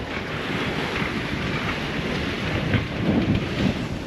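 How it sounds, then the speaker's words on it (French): Strong wind gusting at 20-22 knots over open sea aboard a boat, a loud, dense roar of wind and churning water, steady with rising surges toward the end. "Des rafales à 20-22 nœuds, à 18-19 constants."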